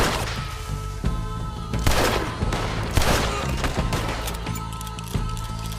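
Gunfire in the video game Red Dead Redemption 2, a rapid scattering of shots and heavier bangs firing irregularly over continuous battle noise, with no talking.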